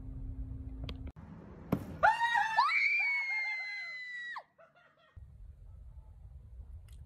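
A person shrieks in fright at a mouse, a loud sustained scream of several seconds with rising and falling pitch, set between quieter room noise.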